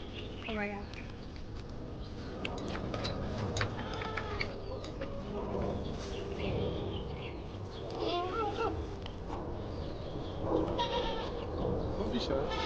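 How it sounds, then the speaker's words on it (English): A goat at a farm in Marrakesh bleats several times nearby, wavering calls breaking through as people chatter and exclaim throughout. "There's a goat. The goat's coming over."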